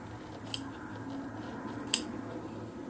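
Scissors trimming a scant quarter inch from quilt fabric give two sharp, crisp snips about a second and a half apart, close and distinct over quiet background noise.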